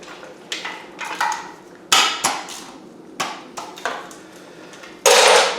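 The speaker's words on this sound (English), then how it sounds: "we got to use a ratchet just to bust it loose real quick" Metallic clanks and knocks from a hand ratchet breaking a tight bolt loose on a rat rod LS engine build, several sharp impacts spread unevenly and close up, ending in a brief louder rasping burst.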